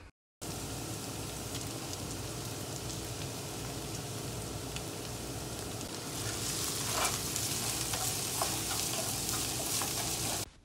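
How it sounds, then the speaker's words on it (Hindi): Loud, continuous sizzling of garlic ginger paste frying in hot oil, with a brief scraping stir partway through and no talking. "इसको भी जस्ट टू मिनट के लिए फ्राई फ्राई करेंगे ऑयल के अंदर"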